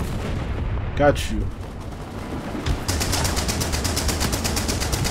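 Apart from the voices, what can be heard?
Vickers machine gun firing in a video game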